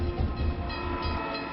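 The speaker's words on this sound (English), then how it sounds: "Emergency fuel gets passenger trains rolling again." A passenger train rolls along the rails with a steady, continuous low rumble and rolling noise that holds at an even level from start to finish, with no voices.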